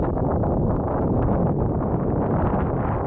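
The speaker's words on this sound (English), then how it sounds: "As you can hear, it's kind of windy." Constant, loud wind roars and buffets outdoors, a dense low rumble with no breaks.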